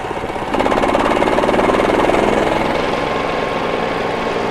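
A Split-Fire 4090 wood chipper's engine runs at medium throttle, a loud, steady mechanical drone with a rapid pulsing rumble that swells after a moment and then holds constant.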